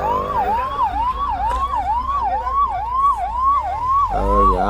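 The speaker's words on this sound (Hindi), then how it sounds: "ये देखिए एम्बुलेंस भी आ गई है" A wailing ambulance siren at a road accident on an expressway cycles rapidly up and down, loud and close, with a low engine rumble joining near the end.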